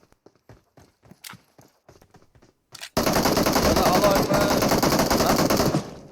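Gunfire in a video game: soft footsteps and hoof-like clops give way to a sudden, loud, sustained burst of rapid shots lasting about three seconds, close and dominating everything.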